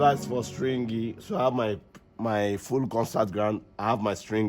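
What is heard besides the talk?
No everyday noise stands out behind the speech.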